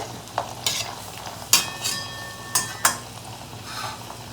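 Sweet potato pantua dumplings frying in hot oil give a steady sizzle, broken by several sharp clinks and scrapes of a utensil against the pan, with no talking.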